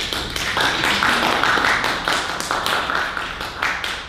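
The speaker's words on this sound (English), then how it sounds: "They're just applauding for you ahead of time." A crowd at a public hearing applauds steadily, a dense wash of clapping that swells and dips in waves without pause.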